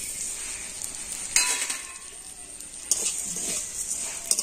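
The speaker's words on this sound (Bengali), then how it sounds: "আর এখন ঘিয়ের সাথে সিমাইটা একটু ভালো করে ভেজে নেব।" Vermicelli fries in ghee with a soft, continuous sizzle, broken by a few sharp scrapes and clatters of a spoon against the pan.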